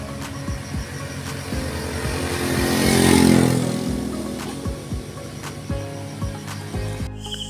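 A motorcycle engine revs up to a loud peak and falls back, with a steady idle running underneath and no other voices.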